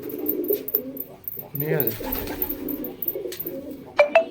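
Pigeons coo in a loft, soft throaty calls repeating close by, while a person speaks briefly over them and a few sharper chirps come near the end.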